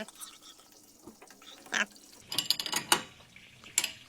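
Tightening a part on a Kiki/Bosch K-type diesel injection pump for a Ford 1600 tractor: several short metallic ratchet clicks and clacks, close and moderately loud, bunched toward the end with quiet gaps between.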